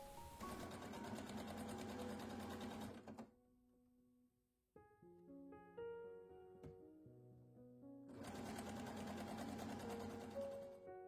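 A sewing machine stitches an elastic seam on a light summer top in two steady, rapid, close runs separated by a quiet pause.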